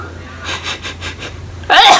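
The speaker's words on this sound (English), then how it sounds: "I'm gonna sneeze right now," A single sharp human sneeze bursts out loud and close, preceded by a few quick, rhythmic breathy inhales as it builds.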